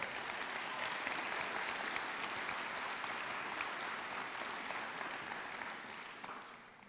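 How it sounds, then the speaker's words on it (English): Graduation-ceremony audience applauding, a broad, continuous roll of many hands clapping in a large space, steady throughout and tapering slightly at the end. "Can we please give them a round of applause?"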